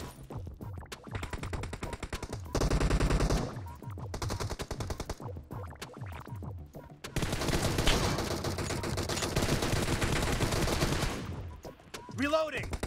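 Gunfire in a PUBG 4v4 team deathmatch, with bursts of rapid shots and sustained automatic fire close up, broken by short pauses and one longer dense stretch.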